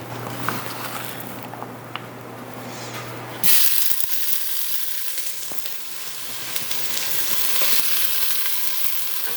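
Onions and garlic frying in a pan for a hearty winter soup, a steady close sizzle and hiss that jumps louder partway through, with faint stirring.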